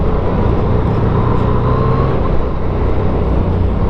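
Steady, loud engine and wind roar from a 2017 Yamaha FZ-09 motorcycle being ridden at light throttle over a bumpy road, a continuous dense rumble with no breaks.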